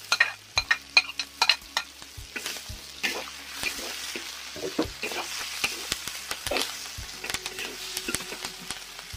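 Garlic and green chili stir-fried in a wok, a steady close sizzle broken by repeated sharp scraping and clacking of the spatula against the pan, with no voices.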